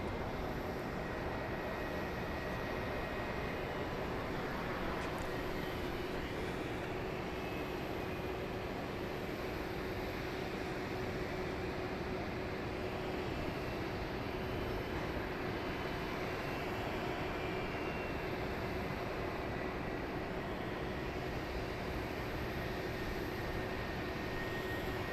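At Dallas Love Field airport at night, a steady, faint aircraft engine roar and hum holds in the background throughout with no talking.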